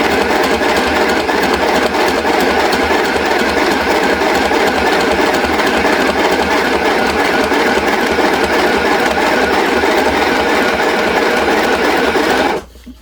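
A small travel sewing machine stitches a fabric wristlet, its loud motor and needle running in a fast, steady rattle for the whole stretch before stopping abruptly at the end.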